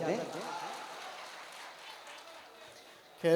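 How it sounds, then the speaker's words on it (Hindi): Audience applause after a poetry recital at a shayari event, a broad wash of clapping that slowly fades, ending with a loud burst of voice. "एक बार जोरदार तालियां बजाकर आप सब इजाजत दें।"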